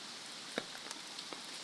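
Rain falls steadily on a vegetable farm where cucumbers and okra grow, a faint, even hiss with a few soft drop taps scattered through it.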